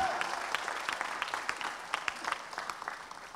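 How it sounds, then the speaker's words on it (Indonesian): Church congregation applauding during a worship celebration, a moderate wash of many hands with distinct sharper claps poking through, heard at some distance and easing slightly toward the end. "Berikan tepuk tangan buat dia"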